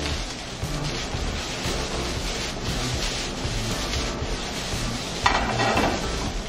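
Chicken pieces browning in a hot frying pan with salt and pepper, a continuous close sizzle with light stirring and a brief louder crackle near the end, no voices.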